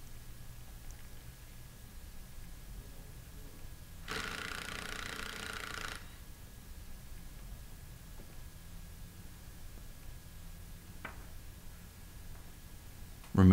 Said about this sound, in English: use our impact gun to remove the opposite side